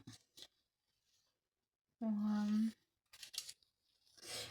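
Scissors snipping paper for scrap crafting, a few short close cuts separated by pauses, with a brief voiced hum or speech sound in the middle.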